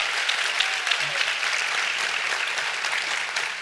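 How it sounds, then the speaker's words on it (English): An audience at a Louisiana education summit for teacher leaders applauds the state board members, a steady, dense clapping that fills the room throughout with a little background chatter. "A round of applause for our state board members."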